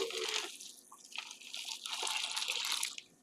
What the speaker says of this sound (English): you're pouring some more boiling water